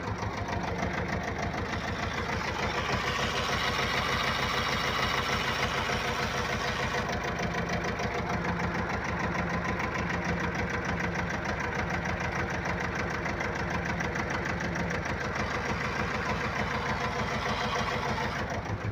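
An Ursus C-330 tractor engine idles continuously with a rough, knocking chug and a steady whirring hiss from a failing clutch layered over it, loud and close throughout.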